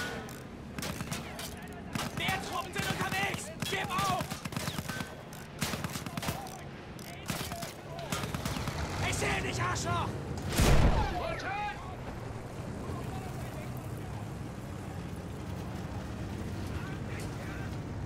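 Sustained gunfire and battle noise from the Battlefield 1 campaign mission Steel on Steel, a dense rattle of shots with a heavy boom around the middle, under shouted voices throughout.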